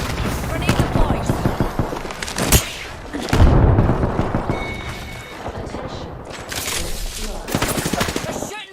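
Video game firefight with rapid bursts of automatic gunfire and single heavy shots, loud and close, layered with explosions and game sound effects, while a voice speaks over the action.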